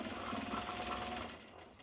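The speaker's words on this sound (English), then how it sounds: "I'm going to go in and I'm going to do a second line of stitching" A sewing machine stitches a seam on a Japanese fabric belt bag, a steady, fast mechanical whirr with rapid needle pulses close to the microphone that slows and fades near the end.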